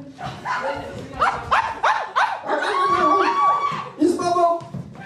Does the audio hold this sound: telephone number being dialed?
no